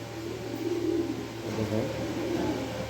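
Pair of pigeons cooing while perched on a clay nesting pot, soft low throaty coos repeating close by over a faint steady hum.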